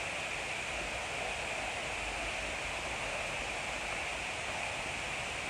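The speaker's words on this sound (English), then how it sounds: "Yes, folks are asking about the sound of water." Water flowing down a small artificial creek fed by pumps between ponds, a steady, dense, hissing rush that stays even throughout, near and fairly loud, with no voices.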